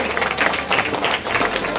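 Audience at a school Independence Day event clapping, a brief burst of dense, steady hand claps of moderate loudness with faint voices underneath.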